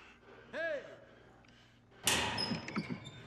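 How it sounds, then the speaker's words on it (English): Sharp door slam in the Roblox game Survive the Night, a single loud bang midway followed by brief rattling knocks, after a quiet stretch with a short vocal gasp. "the door just slammed me"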